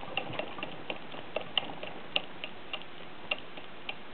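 Backlash in a car rear differential's spider and axle gears, giving sharp, irregular metallic clicks and ticks spaced a fraction of a second apart, close and fairly quiet, with no talk.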